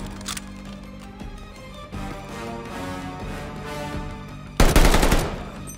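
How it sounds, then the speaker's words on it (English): Gunfire indoors in Call of Duty Vanguard thumps with a muffled, reverberant tone, with scattered shots followed by a louder, sharper burst near the end. "I just realized the gun sounds very different inside."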